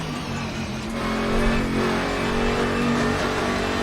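Modded Bathurst 12 Hour race car engine in Assetto Corsa, a brutal, steady raw drone that builds slightly as the revs climb, loud and alone without voices.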